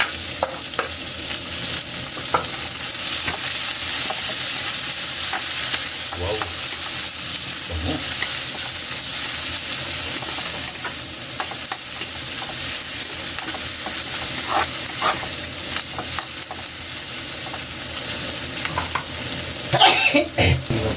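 Onions, chili and red bell pepper fry in a pan with a loud continuous sizzle, broken by occasional scrapes and clatters of a utensil stirring close by.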